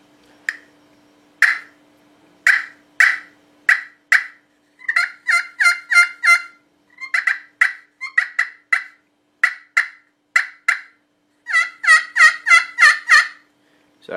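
A sanded turkey friction call worked with its supplied striker gives a rapid series of sharp yelps and clucks in short bursts and runs, loud and close with no talk.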